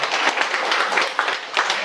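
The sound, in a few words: audience applause for a lecturer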